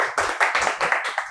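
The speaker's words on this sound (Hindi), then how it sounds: "एक बार इनके लिए भी ताली।" An audience applauds at an AC PCB repair training course, a brisk run of loud, close hand claps at a steady rhythm for over a second.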